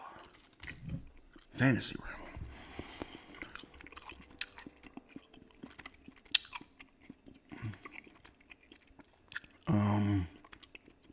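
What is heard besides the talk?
chewing gum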